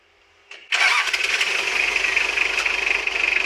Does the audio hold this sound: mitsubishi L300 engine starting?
yes